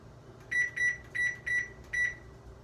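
Five short, clear electronic beeps from an oven's control panel as the bake temperature is keyed in, evenly spaced with a slight pause before the last, close and alone over faint room hum.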